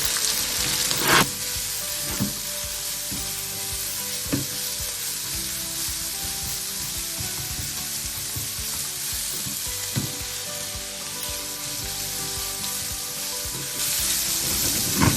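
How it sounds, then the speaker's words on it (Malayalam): Ginger, garlic and shallots sauté in hot oil in a pan with a steady close sizzle, punctuated by a few clacks from stirring at intervals, no talking. "ഇതെല്ലാം നമുക്ക് സോട്ട് ചെയ്ത് കൊടുക്കാം"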